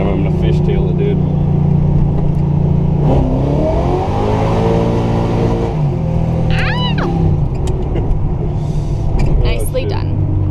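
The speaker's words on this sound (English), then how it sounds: "Alright, I'm gonna fishtail it, dude." A Chevrolet Camaro being fishtailed while street drifting, its engine revving and rising through gears with a brief high tyre squeal partway through, heard loud from inside the car.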